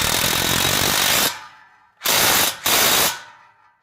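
An Earthquake XT 20V cordless 3/8-inch impact wrench from Harbor Freight rattles loudly up close while removing a fastener: one long hammering burst, then two shorter bursts after a brief pause, with no talking.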